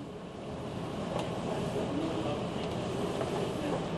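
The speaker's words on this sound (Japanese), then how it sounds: "この電車は快速京都河原町行きです。" Interior of a Hankyu Kyoto Line rapid train bound for Kyoto-Kawaramachi, with a steady broadband rumble of the moving car and faint rail clicks throughout, no voices.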